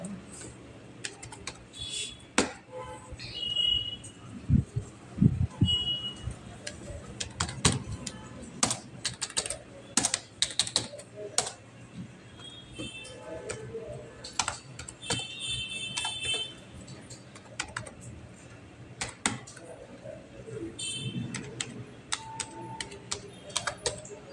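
Steady, close keyboard typing fills out a student registration form in Excel, with rapid clicking runs, brief pauses and sharper single key strikes throughout, and occasional faint voice in the background.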